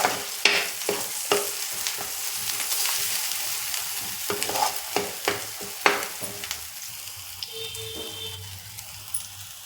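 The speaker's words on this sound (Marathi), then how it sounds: "हे सगळं भाजून घेऊया आपण." Onion and tomato masala roasting in a pan for a fenugreek, pea and cream curry, with a steady sizzle under repeated sharp scraping knocks of a spoon stirring through it, close and fairly loud.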